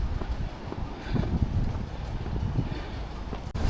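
Strong wind buffets the microphone with a constant rough roar and gusting low rumble, no voices.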